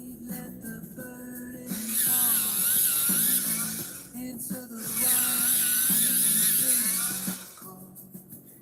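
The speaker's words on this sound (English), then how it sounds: "Let me sharpen this." An electric sharpener grinds a colored pencil in two sustained whirring bursts, close and fairly loud, with a person speaking in between.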